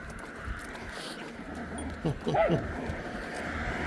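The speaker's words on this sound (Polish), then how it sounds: "To opętany pies" A dog gives a few short yips and whimpers around the middle of the clip, fairly close, over steady background noise with faint human sounds.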